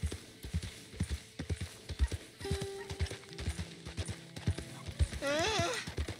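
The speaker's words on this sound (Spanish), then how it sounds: "Estamos dando un paseo con el caballo." Horse hooves clip-clop in a steady, close rhythm as a rider travels on horseback in Red Dead Redemption 2 on Xbox Series X, with a loud neigh breaking in near the end.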